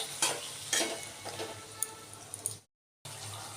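Masala paste sizzles in oil in a pan for an aloo paneer curry, with soft frying crackle and a few scraping stirs. It cuts briefly to silence near the end before the sizzle resumes.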